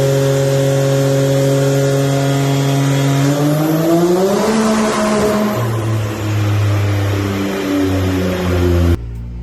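A turbocharged car on 93-octane tune mixed with 110 race gas revs hard during a dyno pull, engine tone climbing steadily for several seconds, then dropping and shifting before cutting off abruptly; loud and close.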